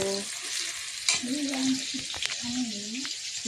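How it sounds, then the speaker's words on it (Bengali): Onion fries in hot oil in a pan, giving a steady close sizzle with occasional stirring scrapes, while a voice talks faintly in the background. "আমি পেঁয়াজটা দিয়ে দিলাম পেঁয়াজটা ভাজাভাজি হবে তারপর চিকেনটা দিয়ে দিব"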